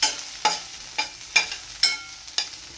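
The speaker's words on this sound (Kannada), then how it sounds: "ಇವಾಗ ಪ್ಯಾನ್ಗೆ ಆನಿಯನ್ ಹಾಕ್ಕೊಂಡು ಅದನ್ನು ಲೈಟಾಗಿ ಫ್ರೈ ಮಾಡ್ತಾಯಿದ್ದೀನಿ" Onions fry lightly in a pan as a spatula scrapes through them in about six evenly spaced strokes, each a brief bright swish over a faint background sizzle.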